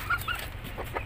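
A laying hen gives a couple of short, soft clucks close by against steady background noise, with no talking.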